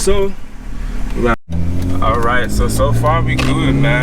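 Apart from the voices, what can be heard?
BMW E46 car driving off, engine revving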